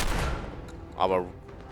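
Shotgun fire in the video game Fallout 4: a loud, broadband blast at the start, then a second sharp burst about a second later with a brief ringing tail, heard against steady game ambience.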